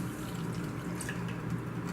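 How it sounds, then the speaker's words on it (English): Pancake batter ingredients being poured into a pot at home, a steady trickling liquid pour that runs continuously, close and moderately loud, with no talking. "Pour that in there."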